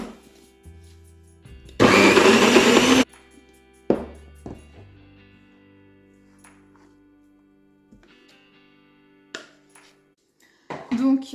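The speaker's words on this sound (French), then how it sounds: "Donc là, j'ai fini de mixer les pois chiches." Kitchen blender whirring as it purees chickpeas, one loud burst of about a second amid quiet clinks and handling noises, with brief speech nearby.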